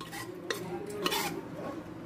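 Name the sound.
mashing cooked dal in a pressure cooker with a ladle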